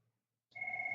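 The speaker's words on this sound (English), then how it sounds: "there's a phone." A telephone rings, a sudden electronic bell tone that starts abruptly after a moment of silence and holds steady and clear, fairly close.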